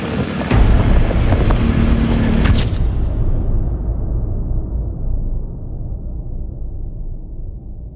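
A restored first-generation Honda Vario 110 scooter engine runs steadily at close range, a sharp burst early on giving way to a continuous mid-loud drone without talk.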